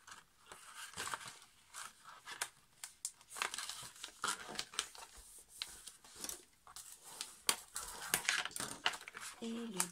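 Paper napkins being folded into a notebook, giving continuous close crinkling and crisp creasing rustles with steady handling throughout.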